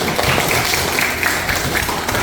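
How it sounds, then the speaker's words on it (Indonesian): Classroom audience of teachers and students clapping, a steady close patter of applause at moderate level lasting the whole brief clip. "tepuk tangan."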